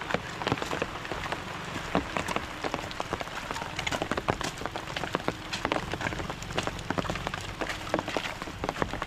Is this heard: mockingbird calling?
no